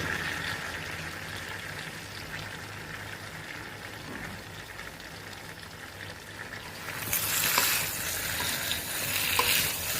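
Spices, chilli powder and cumin powder sauté with leafy vegetables in a pan for a Bengali prawn and pui shak dish, a steady close sizzle with stirring that grows louder and brighter partway through.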